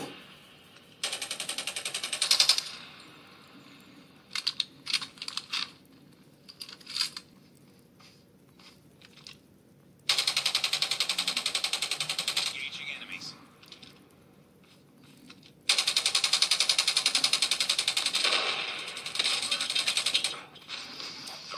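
Gunfire from a mobile shooter game played on an itel P55 NFC phone, bursts of rapid shots in long loud stretches separated by quieter gaps, with a voice talking between them.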